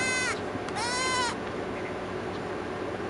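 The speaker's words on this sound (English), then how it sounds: "Why are these sheep in the house?" Sheep in The Sims 4 give two bleats close together at the start, each a wavering, nasal call, with quiet background afterward.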